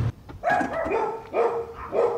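A dog barks at a rural property in France, giving several loud, close barks in quick succession with short gaps between them.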